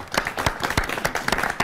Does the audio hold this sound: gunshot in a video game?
no